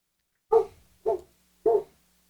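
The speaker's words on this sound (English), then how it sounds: "There's some barking wampas" Wampas in a Star Wars video game give three short, evenly spaced barks. The barks are clear and moderately loud over near silence.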